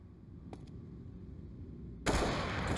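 Gunfire in Counter-Strike on the Overpass map during a FaZe Clan versus SK Gaming match: a sudden loud burst of shots erupts near the end, after a quiet stretch with a couple of faint earlier clicks.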